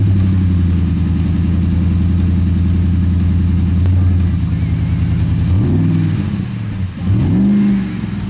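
A Ford F-150's V8 engine gives a deep, steady rumble up close, then revs briefly twice near the end, with no talking.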